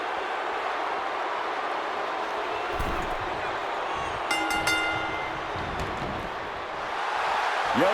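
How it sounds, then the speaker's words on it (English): Loud, steady crowd roar fills a WWE 2K25 wrestling video game gauntlet match, a dense continuous wash of cheering that swells slightly toward the end, with a few whistles and tonal cues layered on top. "The roar of this crowd has been building, and they are in a fever pitch right now."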